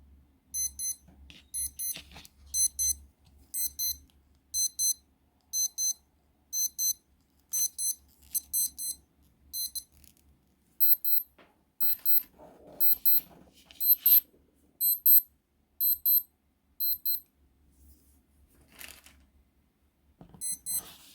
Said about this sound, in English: I will insert a test of the alarm sound and the beep sound.